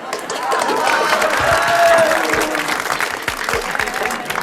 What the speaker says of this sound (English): And a little bit of clapping and some glasses